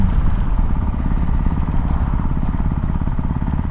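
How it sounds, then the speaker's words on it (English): A Ducati Hypermotard 698 motorcycle engine runs loud and close with a rough, steady pulsing throb that holds without a clear rise in pitch, and no voices. "if a child tells you to rev your motorcycle, you rev your motorcycle"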